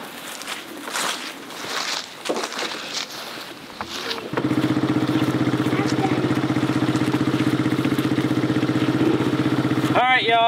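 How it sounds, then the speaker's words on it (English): An ATV engine idles close by with a steady, loud drone that begins partway in and holds to the end, after quieter handling noises outdoors on a homestead. "apologize for the ATV running like my wife said in the prior video"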